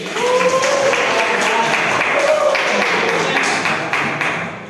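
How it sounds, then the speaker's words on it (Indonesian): Classmates clap after a group presentation in a classroom, close, loud, brisk applause with some voices mixed in, lasting a few seconds before tailing off. "Tepuk tangan buat Mas Yusuf."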